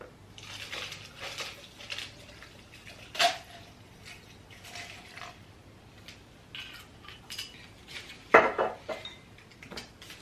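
Malibu poured into a mixing cup already holding ice, with clinking of ice and glassware, light knocks and a louder clatter near the end, close and uneven.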